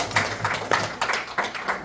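Audience clapping at a live magic and mind-reading show in Sevierville, Tennessee, a moderate patter of hands with uneven bursts and swells, fairly close and steady for under two seconds.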